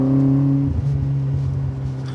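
A Honda Accord Type S with a K24 engine idles with a steady low drone, then the revs climb into a rougher, building engine roar over a couple of seconds, close and loud.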